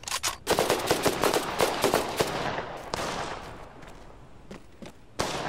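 Rapid bursts of gunfire in a video game crackle one after another, loud and close, thinning out to a few scattered shots toward the end.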